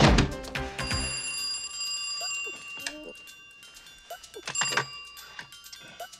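A telephone rings with a bright, repeated electronic trill, loud at the start and then recurring in short bursts, mixed with scattered knocks and thumps in the room.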